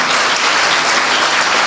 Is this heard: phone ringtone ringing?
no